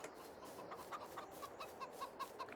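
Chickens cluck in a Farming Simulator 22 farmyard, a faint run of short, evenly spaced clucks over a soft, steady background hiss, with no voices.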